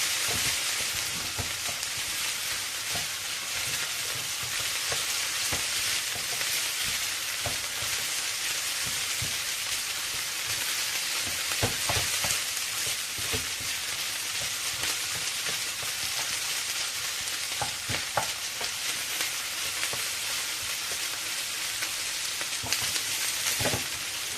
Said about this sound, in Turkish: Şimdi soğanlarımızı falan karıştırıyoruz.